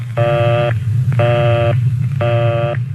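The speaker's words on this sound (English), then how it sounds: "If the line is busy, you'll hear this busy signal." Three evenly spaced tones of a telephone busy signal, each about half a second, repeating with short gaps over a steady low hum.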